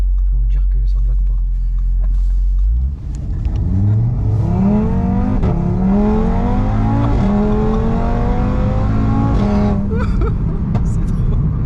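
A 600 hp Audi RS3 engine accelerates hard, its note climbing steeply through several rising sweeps with shifts between them, loud and close from inside the car, with a brief lull near the start.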